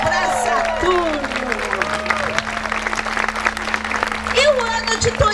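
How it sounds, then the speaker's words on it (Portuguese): A crowd gathered for a witches' Halloween ritual in Paranapiacaba bursts into lively applause, a dense wash of clapping with voices calling out over it and a steady low hum beneath. "Uma salva de palmas para Saturno."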